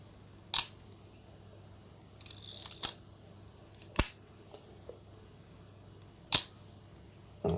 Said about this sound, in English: Listen to the shutter.